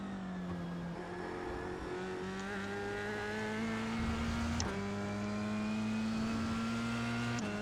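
F3 race car engine in a racing video game, a steady high-revving drone that climbs in pitch through the gears with a brief dip at a shift, loud and continuous.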